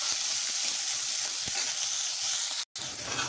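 Onion and green chili sautéing in a pan for kara kozhukattai, a steady close sizzle and hiss of frying with faint stirring taps, continuous apart from a brief cutout near the end.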